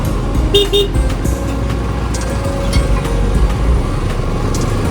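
Vehicles pass along a badly potholed road beside paddy fields, with a steady rumble of traffic and engines, short horn toots near the start and scattered knocks, and a voice talking faintly underneath.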